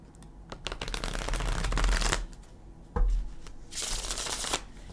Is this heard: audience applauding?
no